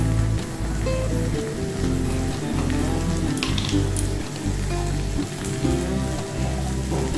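Ginger paste fries in a pan, a dense, continuous crackling sizzle like rain on a surface, held at an even level with a faint low hum beneath and no speech.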